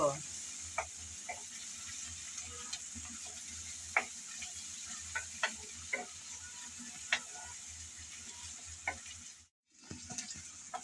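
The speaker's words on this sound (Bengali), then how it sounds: "এখন পেঁয়াজ আর রসুন নেড়েচেড়ে হালকা ব্রাউন কালার করে ভেজে নেব।" Chopped onion and garlic fry in a pan with a continuous close sizzle, punctuated by regular sharp clicks and scrapes of a stirring spoon, with a brief silent gap near the end.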